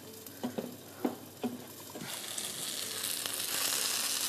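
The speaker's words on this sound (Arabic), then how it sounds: "بدنا نحركها منيح" Moghrabieh pearls simmering in chicken broth get stirred in a pot, a few soft clunks of the spoon at first, then a rising bubbling sizzle that builds and fills the space near and steady.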